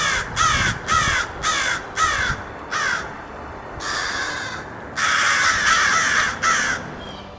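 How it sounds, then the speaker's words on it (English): Crows caw repeatedly in loud, harsh bursts, first in a quick series of short calls, then longer drawn-out caws, fairly close. "harassed by angry crows or blue jays"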